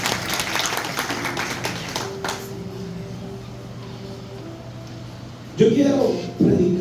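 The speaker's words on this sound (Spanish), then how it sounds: "Den un aplauso al Señor." Applause in a church at a Spanish-language service, a broad patter of clapping from the congregation that thins after a couple of seconds, with a low hum beneath and a few voices breaking in near the end.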